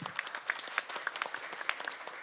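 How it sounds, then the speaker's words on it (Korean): Light applause from a modest audience at a policy forum on digital innovation, distinct individual claps pattering at a fairly low level, with no voices. "박수 한번 부탁드립니다"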